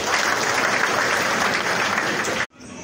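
A church congregation in Kananga breaks into loud, sustained applause that fills the space, then stops abruptly near the end.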